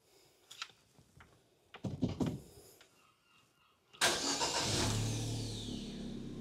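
A car engine cranks and catches after an ECM repair, preceded by a few clicks and knocks, then settles into a loud, steady idle that runs close to the microphone through the final seconds.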